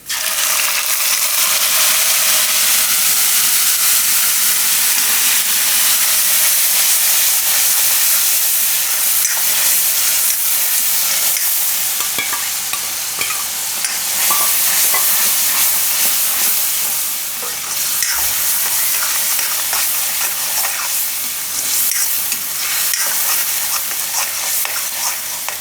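Onion paste with red chilli and hing frying in a pan as it is stirred, a steady loud sizzle with scraping and clinking of the spoon running throughout, no voices.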